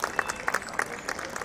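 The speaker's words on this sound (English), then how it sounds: "Let's have a round of applause." Quiet audience applause at a graduation ceremony at a fashion institute in Noida, a thin patter of clapping hands that keeps going steadily, heard from a distance and slightly muffled.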